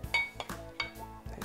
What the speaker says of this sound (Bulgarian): внимателно сипвам в чинията